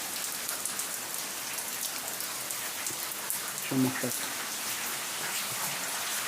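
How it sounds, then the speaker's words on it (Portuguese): Heavy rain pours steadily onto a roof among garden plants, a dense, loud hiss that continues throughout while a person speaks briefly partway through. "Eita pessoal, começou a chover."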